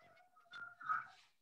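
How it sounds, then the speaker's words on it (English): A dog barks faintly and distantly in a few short, tonal bursts, heard through a live mosque awards broadcast with no one speaking over it. "Sounds like a dog barking."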